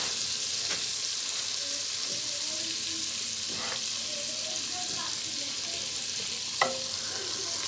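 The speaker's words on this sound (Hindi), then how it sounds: "इनको अच्छे तरीके से फ्राई करना है जब तक कि इनकी खुशबू नहीं आ जाती ज़ीरे और लहसुन की।" Cumin seeds and garlic sizzling and frying in hot oil in a pan for mash daal, a steady broadband crackle with a few stirring scrapes and clicks, close and continuous with no talk.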